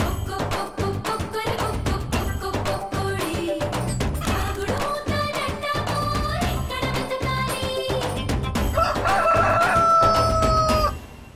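A rooster offered to a god crows loudly and repeatedly, with clucking and other fowl calls packed densely around the drawn-out crows throughout.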